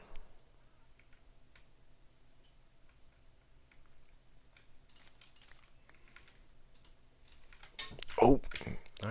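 A cat walks across a computer keyboard, producing sparse, irregular soft key clicks and taps, with a louder clatter of keys near the end.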